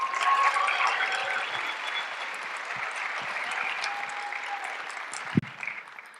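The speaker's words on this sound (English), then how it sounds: "please give a warm round of applause for Lauren Gardner" A comedy-club crowd applauds as comedian Lauren Gardner comes to the stage: sustained clapping that gradually thins out, with a sharp thump near the end.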